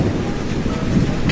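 Heavy rain falls in a steady wash while thunder rumbles low underneath, a short stretch of storm sound heard alone at moderate level.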